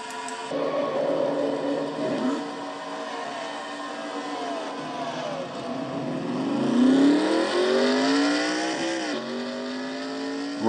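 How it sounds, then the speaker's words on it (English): A stock car engine in a NASCAR-style race restarts after a spin, idling roughly and then revving up in rising sweeps that climb and drop, loud and close with no talk. "Red Bell finally gets her car started and puts it into gear."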